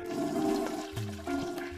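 A toilet flushes with a gurgling rush of water that swirls and drains in uneven surges, close and fairly loud, with no voices.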